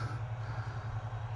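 A farmer's tractor works somewhere in the background, making a steady, low engine drone that holds at an even level throughout with no voices over it.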